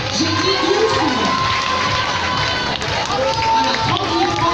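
A large crowd cheers and shouts continuously at full volume, with excited voices rising over a steady wash of noise and little distinct clapping.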